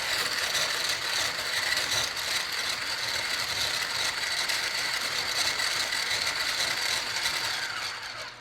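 Electric hand mixer running at full speed beating egg yolks for a keto strawberry coconut cream roll cake, a steady high whirring and rattling of beaters in the bowl, continuous and close with no talking.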